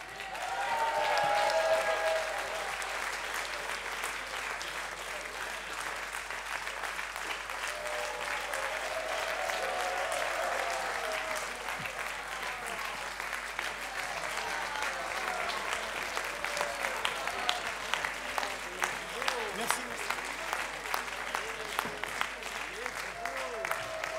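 Sustained crowd applause greets Giancarlo Pedote, skipper of Prysmian, after crossing the Vendée Globe finish line and sailing up the channel; dense clapping runs the whole time, swelling early and thinning into scattered claps near the end.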